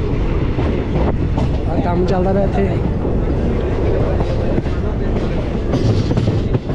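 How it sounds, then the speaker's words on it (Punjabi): A train running from Jalandhar toward Amritsar rumbles and clatters on the rails with rhythmic clicks, loud and close, while someone talks over it. "ਭਾਈ ਸਾਹਿਬ ਕੈਸੇ ਮੁੜ ਰਹੀ ਹੈ ਟ੍ਰੇਨ"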